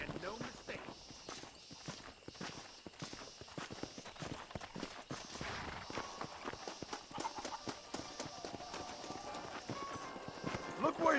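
Horse hooves clip-clopping in Red Dead Redemption, a steady quick rhythm of distinct hoof strikes at moderate distance, growing busier and louder toward the end with faint ambient noise.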